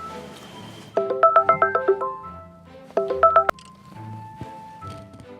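A phone keypad being dialled, two quick bursts of tone beeps pressed in rhythm, loud and close, followed by soft room noise and faint background sounds.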